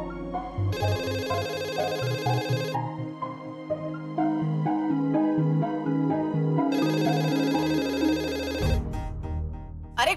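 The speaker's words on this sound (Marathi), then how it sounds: "अरे कोणीतरी घ्या ना तो फोन." A telephone rings in an office in repeated electronic bursts, with background music underneath and a voice briefly at the end.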